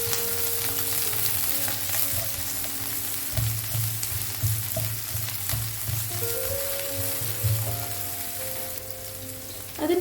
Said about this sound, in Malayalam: വറ്റൽമുളക് ജസ്റ്റ് ഒന്ന് മൂപ്പിച്ചെടുക്കാം. അതിൻ്റെ കൂടെ തന്നെ ഒരു ഉള്ളി അരിഞ്ഞത്